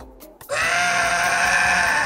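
A goat in the video game Goat Simulator lets out one long, loud, wavering bleat that starts abruptly after a brief quieter lead-in and holds to the end.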